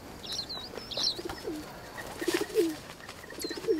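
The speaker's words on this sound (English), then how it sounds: "Oh, it's just a feral pigeon." Feral pigeon in the wildlife game Alba: A Wildlife Adventure, cooing softly in repeated low phrases, with faint chirps of other birds in the background.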